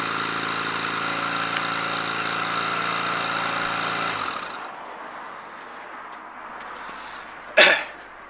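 A Honda adventure motorcycle engine runs steadily with a loud, even hum, then cuts out about four seconds in, leaving quiet background and one short sharp noise near the end.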